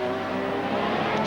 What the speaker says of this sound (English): Through the chicane goes the Tyrrell